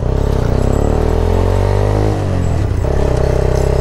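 Up close, a Daelim Daystar 125 motorcycle engine revs with a loud, steady throbbing note, the pitch dipping briefly midway before picking up again.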